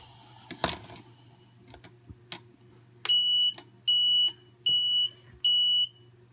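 A Munchkin bottle warmer sounds its loud, piercing alert beep four times in long, evenly spaced tones, close by, after a few faint clicks and knocks from handling nearby.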